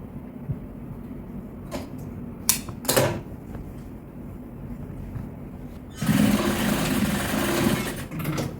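A sewing machine stitches a hood onto the body of a hoodie, with short whirring bursts and knocks followed by a loud, steady run of stitching near the end.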